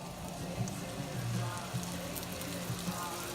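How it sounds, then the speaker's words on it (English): Chicken pieces for chicken marsala sizzle in melted butter in a hot pan, a steady, close, crackling hiss with faint popping throughout. "Should start sizzling almost right away, let you know that it's hot enough."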